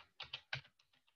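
Computer keyboard typing in a quick burst of several keystrokes, close and clear, with no talk over it.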